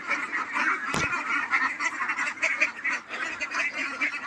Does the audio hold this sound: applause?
no